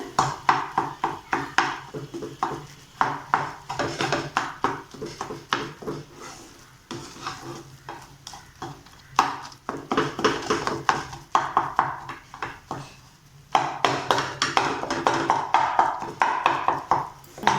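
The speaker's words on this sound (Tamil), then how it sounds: "நான் கரண்டியிலே நல்லா கொத்தி விட்டுக்கிறேன்" Bread and egg being chopped with a metal ladle in a pan for Tamil kothu bread, a steady run of clattering scrapes and taps against the pan with a light sizzle, close and busy, with brief pauses.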